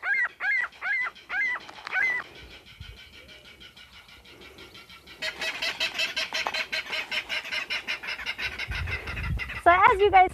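Gulls in a shorebird aviary call loudly while being fed worms, with sharp repeated cries at the start, a dense chattering flock chorus building in the middle and a burst of close calls at the end.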